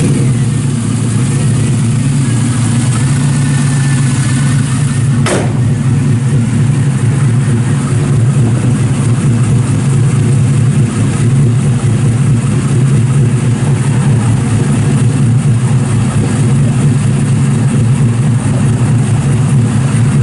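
A 1966 Chevrolet Nova II SS resto-mod engine with an aftermarket camshaft runs the whole time, a loud, close, steady rumble with a slight uneven lope.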